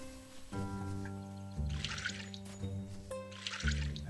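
Two short bursts of splashing water sprinkle over flowers in the farming game Littlewood, heard over a soft, gently stepping musical background.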